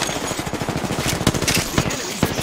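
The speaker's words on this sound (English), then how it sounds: "The enemies are shooting at me." Enemy machine-gun fire in a military video game rattles in rapid, loud, continuous bursts at close range, with a few heavier shots standing out.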